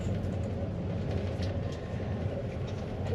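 Inside a Lithuanian Railways passenger train travelling from Kaunas to Šiauliai, a steady low rumble of the moving carriage fills the space with faint rail clatter above it, and no voices.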